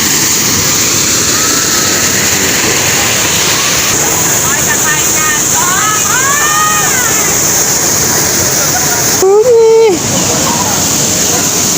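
A waterfall among bamboo gives a loud, steady broadband rush of falling water, with people talking over it and a brief louder disturbance near the end.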